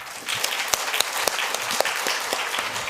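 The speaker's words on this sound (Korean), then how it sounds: "한번 박수하십시다." A church congregation at a Korean Sunday service applauds together. The steady, full clapping is punctuated by a few sharper, closer individual claps, with no one speaking over it.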